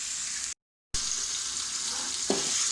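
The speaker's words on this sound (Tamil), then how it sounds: "இப்போ இதில் நம்ம தக்காளி பழம் ஆட் பண்ணுறோம்." Tomatoes sautéing in an oiled pan for masala pasta with curry leaves and coriander: a steady close hiss of frying, cut by a brief silent gap, with a single light stir or knock later on.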